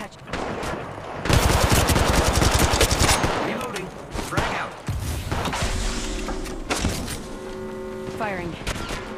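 Rapid automatic gunfire in the battle royale game Apex Legends Mobile crackles in dense bursts, joined by sharp shots, electronic game effects and rising tones, loud and close throughout.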